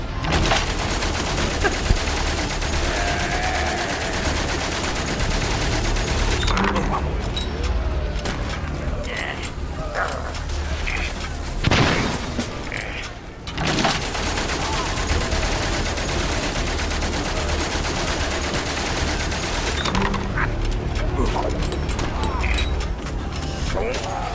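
Sustained gunfire from the World War I video game Valiant Hearts: The Great War, loud and dense rapid machine-gun bursts and rifle shots with occasional booms, continuing nearly unbroken with a brief lull.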